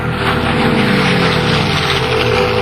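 Several aircraft climbing together give a loud, steady propeller drone that holds without a break, with no voices.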